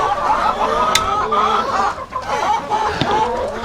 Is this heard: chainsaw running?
no